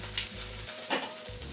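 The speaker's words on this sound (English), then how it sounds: "gonna sear this broccolini for a minute" Broccolini searing in a hot pan, a steady close sizzle and crackle with brief stirring scrapes, loud and continuous with no talking.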